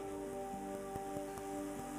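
Heavy rain falls during an indoor gathering as a steady, dense patter drumming on a surface, with a constant hum behind it and occasional louder drops, continuous and close with no pauses.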